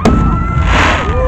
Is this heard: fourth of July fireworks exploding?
yes